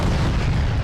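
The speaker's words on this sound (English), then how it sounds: "The Angara's primary weapon is a new 125mm cannon" A 125mm cannon on an Angara tank in the ARMA 3 video game fires, giving one loud, broad, booming blast that fills the moment with dense low rumble.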